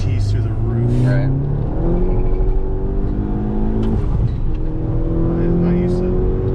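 A VW MK6 GTI running an E54 tune accelerates hard with steady engine drone and rising gear pulls under ongoing in-car conversation.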